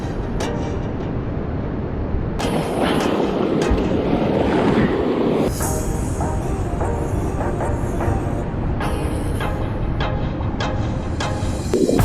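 Ocean surf washing ashore beside a boat, a loud continuous wash with wind buffeting the microphone and sharp splashes and knocks breaking through.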